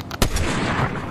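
A sniper rifle shot from the Fortnite video game, a single sharp loud crack with a short decay, surrounded by continuous busy game noise.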